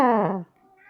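Noir, a fluffy cat, lets out a single short whiny meow close to the microphone, followed by a faint trailing sound.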